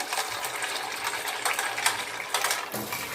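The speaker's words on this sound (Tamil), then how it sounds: "தண்ணி ஊற்றிக்கலாம்." Water pours into a bowl of ice cubes, a steady splashing stream with brief louder gushes and rattles, close by, with no talking.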